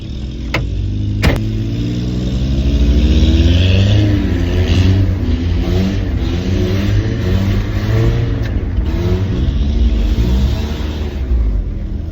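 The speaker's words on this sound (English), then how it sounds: "And this thing has a bad exhaust leak." Mazda pickup truck with a bad exhaust leak drifting, its engine revving and rumbling loudly and continuously up close, with a couple of sharp clicks near the start.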